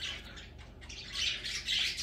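Several birds chirp and squawk in a busy, overlapping chorus, fairly close, with no talking.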